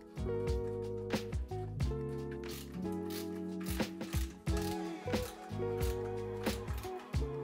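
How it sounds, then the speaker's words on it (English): A headlight projector is screwed into its frame during a BMW E46 headlight retrofit, producing bursts of close, rhythmic mechanical clicking and ratcheting separated by short pauses, over a faint tonal background. "The next step is to screw the projector into the frame."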